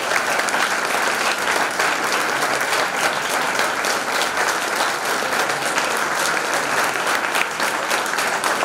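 Loud, dense applause from a theatre audience welcoming guest Dr. Anil Dadi at a legal literacy and women's empowerment stage presentation, a steady unbroken roar of clapping that lasts the whole stretch with no talk.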